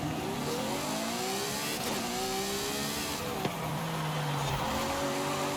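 A Vulcan Sprint race car engine in Forza Horizon 5 revs and pulls through the gears, a loud steady mid-pitched drone with rising and falling tones as it shifts, with no talk over it.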